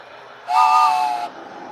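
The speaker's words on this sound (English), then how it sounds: "So that's the train whistle." One short, breathy toy train whistle toot, chord-like and steady for under a second, over a low background hiss.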